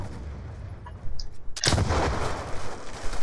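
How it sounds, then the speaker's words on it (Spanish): A bazooka shot explodes in Call of Duty: Black Ops 2, a sudden loud blast partway through that leaves a rumbling, crackling decay after a quieter stretch of faint distant gunfire. "El bazocazo, tío."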